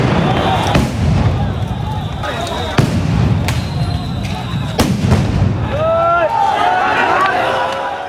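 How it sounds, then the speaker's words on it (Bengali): Sound grenades go off during a police baton charge on a street, sharp loud blasts at about 0.7, 2.8, 3.5 and 4.8 seconds amid a running, shouting crowd, with whistles and voices rising near the end. "শুরু হয় লাঠিচার্জ আর সাউন্ড গ্রেনেড নিক্ষেপ।"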